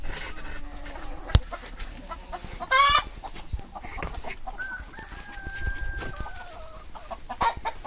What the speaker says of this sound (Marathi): यासाठी सगळी कोंबडी अंड्यांगात बसली आहेत